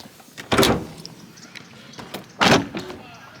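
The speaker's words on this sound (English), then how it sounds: "Let me pop the hood for y'all" Hood release on a Nissan 350z, two loud mechanical thunks about two seconds apart, close by, with faint background noise between them.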